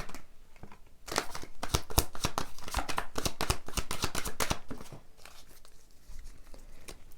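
Tarot cards being shuffled and drawn for a reading, a dense run of quick papery riffles and snaps that starts after a second of near quiet and eases off toward the end, heard close up with no talking.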